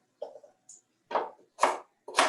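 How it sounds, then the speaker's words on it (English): A knife chops food for soup on a cutting board: three sharp, close chopping strikes about half a second apart, with a few lighter taps before them. "Chopping."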